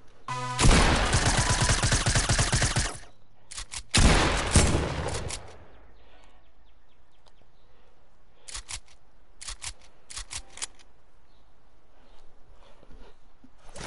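Shotgun gunfire in a video game: two long, loud stretches of rapid blasts, followed by scattered single sharp shots spaced apart over quieter background noise.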